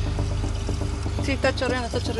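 Water pours and gushes steadily out of a broken container at a roadside water stop in Ecuador, a continuous close splashing flow with voices talking over it.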